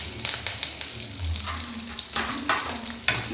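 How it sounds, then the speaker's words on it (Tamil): Curry leaves, garlic and shallots fry in hot oil with a steady, close sizzle, broken by a series of sharp scraping stirs from a spatula and no voices. "வெடிச்சதுக்கப்புறம் லைட்டாக கருவேப்பிலை போட்டதுக்கப்புறம் லைட்டாக வெள்ளைப்பூடு போட்டதுக்கப்புறம் லைட்டாக சின்ன வெங்காயம்"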